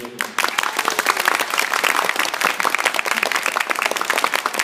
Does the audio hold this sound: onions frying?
no